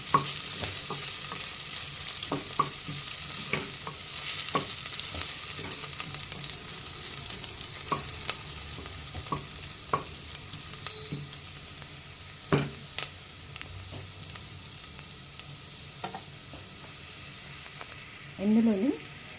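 Fresh ginger garlic paste fries in a pan, a soft continuous sizzle broken by sharp spoon taps and scrapes against the pan, with a brief voice near the end.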